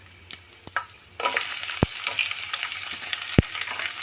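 Garlic dropped into hot oil with lentils, cumin and dried red chillies for radish chutney, a sudden burst of crackling sizzle that settles into steady frying, with a couple of sharp clinks of a spoon against the pan.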